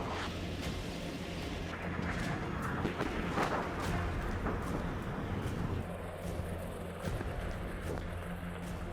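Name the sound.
explosions in Kyiv during Russian drone attack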